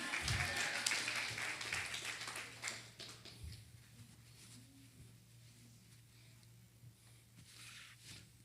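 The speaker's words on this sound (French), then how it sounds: "Applaudis mon Dieu pour message li." A church congregation claps at a sermon, loud scattered applause for the first few seconds that thins out and fades under a low hum.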